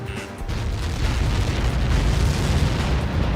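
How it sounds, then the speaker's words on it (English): An explosion on impact in Ace Combat 7, a heavy booming blast that swells into a sustained, rumbling roar lasting several seconds, loud and close, with no voices. "How many got caught in that explosion?"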